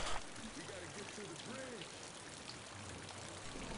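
Light rain in a video game, a steady soft hiss of falling drops under faint voices talking in the background, with no thunder standing out.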